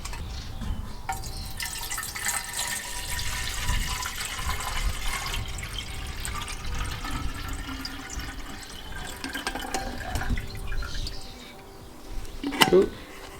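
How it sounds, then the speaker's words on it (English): Water pouring into a cast iron kettle, a continuous splashing fill with dripping toward the end and a brief clank near the close. "Let's just fill it with water."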